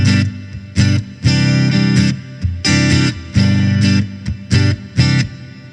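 An acoustic guitar runs through a Line 6 POD GO set to reverb alone, with close, loud strummed chords in irregular bursts whose sustained wash fills the short pauses between strums.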